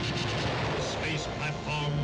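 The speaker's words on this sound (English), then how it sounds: "The Great One himself sends the cosmic blast that atomizes rocket ship," A cosmic blast atomizing a rocket ship in a 1953 sci-fi film, heard as a dense, roaring wash of rumbling noise that holds steady and loud for two seconds, with a low hum and faint tonal streaks riding on top.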